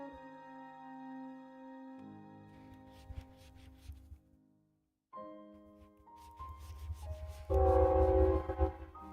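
A passing train sounds its horn in long sustained blasts, stops briefly, then blows again louder and closer as the rumble of the cars builds at the end.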